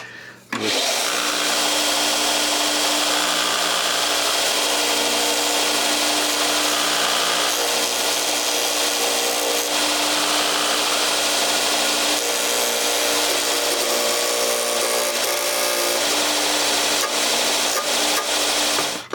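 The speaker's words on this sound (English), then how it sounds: "I started with the circular sander, and that was just grabbing it and flipping it." A circular sander grinds a recoil pad held in a jig, a loud, continuous whirring rasp that starts abruptly and holds steady up close for nearly twenty seconds.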